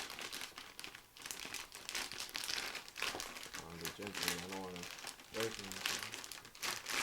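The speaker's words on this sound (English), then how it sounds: "Go ahead and take your motherboard out of the" Motherboard being pulled from its plastic anti-static bag during a PC build, with loud, continuous crinkling and rustling of plastic close by while people talk over it.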